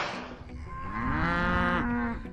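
Cattle on a ranch raising grass-fed beef give a long, loud mooing call that rises and holds steady before tapering off, close and alone with no other sounds.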